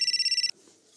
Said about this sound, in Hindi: एक सेकंड बॉस का फोन है।